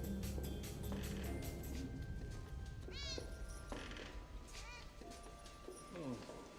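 A cat meows several times during a scene from The Matrix, the rising and falling calls heard over background music and ambient film sound, with people talking around them.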